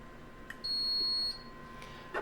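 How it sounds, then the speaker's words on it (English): An HL/SL circulator unit sounds its alarm: one steady, piercing high beep lasting under a second, close and loud over a low background hum, with faint clicks before and after. "if we cause the unit to alarm"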